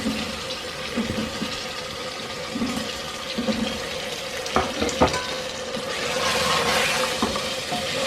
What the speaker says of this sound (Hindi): इसको 2-3 मिनट भूनेंगे।